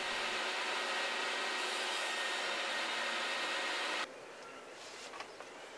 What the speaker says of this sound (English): With a good vacuum cleaner attached to it,